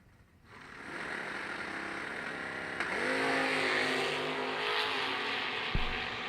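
Drag racing pickups, including a Chevrolet S10 pulling a wheelie, roar off the line with a loud engine blast that swells and holds, rising in pitch as the trucks accelerate, with a brief sharp knock near the end.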